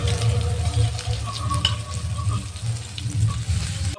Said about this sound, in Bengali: তারপরে লেড়ে ভেজে নিই।